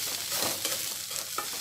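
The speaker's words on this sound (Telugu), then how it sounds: "పచ్చివాసన పోయేంత వరకు ఫ్రై చేసుకోవాలి." Drumstick leaves being stir-fried in a pan, a close, steady sizzle with scraping stirring strokes across the short stretch.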